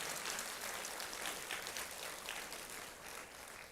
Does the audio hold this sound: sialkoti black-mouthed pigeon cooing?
no